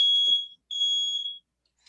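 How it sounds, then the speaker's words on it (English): A home smoke detector sounds two long, shrill electronic beeps, close and loud, separated by a short gap. "oh, sorry, my smoke detector. Gotta mute."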